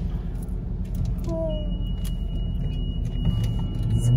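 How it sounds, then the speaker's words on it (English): Inside a car going through a touchless automatic car wash, a constant low rumble of water spray and machinery surrounds the cabin, with faint squeaks and a thin steady whine on top. "We're in the car wash now."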